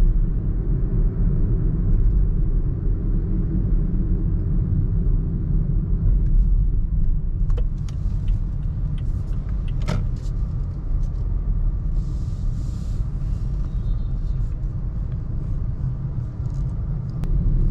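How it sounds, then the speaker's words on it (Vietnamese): Steady low road rumble fills the cabin of a Toyota Vios while it drives, loud and continuous, with a few faint clicks near the middle and no talking. "các bạn nghe thấy tiếng ồn nó bắt đầu nó giảm đi rồi, nó giảm dần"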